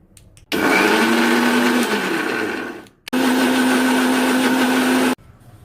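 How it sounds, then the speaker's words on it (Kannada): A mixer grinder whirs loudly in two steady bursts grinding spinach chutney with cumin, a brief pause between them, with no talking. "ಇದನ್ನು ಇವಾಗ ಮಿಕ್ಸಿ ಮಾಡ್ಕೊಳ್ಳೋಣ"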